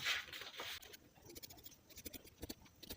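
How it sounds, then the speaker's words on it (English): Scissors snip through fabric while cutting out pattern pieces for a cape peplum top, a string of close, crisp scratchy snips and rustles following a brief louder swish at the start. "so let's go ahead and cut out now"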